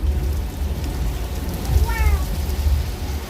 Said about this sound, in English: I think it's time for the rain, so let's go ahead and turn that on.